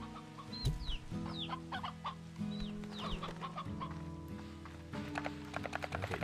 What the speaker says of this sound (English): There's an elder hen here randomly.